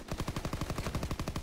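A PPSh submachine gun fires in a video game as a rapid, steady burst of about fifteen evenly spaced shots, loud and close, with no talking.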